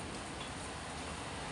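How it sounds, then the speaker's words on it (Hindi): Heavy rain pours down in a steady, dense hiss that fills the whole moment without pause, with no voices. "आ गई तेज़ बारिश लो"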